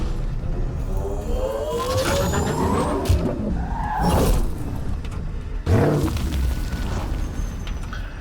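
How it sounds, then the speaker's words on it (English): Vehicle driving in the Mass Effect Andromeda video game: a loud, continuous engine roar with skidding and tire noise, punctuated by booming thuds and a sharp impact near the end, with no talk. "It's one that actually feels like a nice vehicle to drive."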